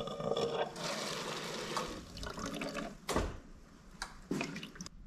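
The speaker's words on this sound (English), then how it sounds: "I want to catch a little bit of fuel in this water jug here" Old fuel drains from a fuel line into a water jug, giving a steady splashing trickle with a few sharper sloshes and knocks, close by, with no speech.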